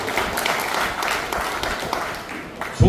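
Audience applauding at a Korean martial arts association ceremony for the disabled, a steady, dense wash of clapping from a crowd that continues throughout with no speech.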